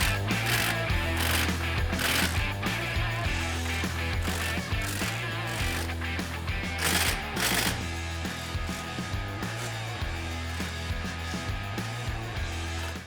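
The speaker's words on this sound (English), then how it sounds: "Now you're going to fully tighten all your hardware." Hardware being fully tightened on a SuperATV Outfitter bed rack mounted on a Can-Am Defender, heard as steady, repeated ratchet-wrench clicking with metallic pawl rattles, close and loud throughout with no talking.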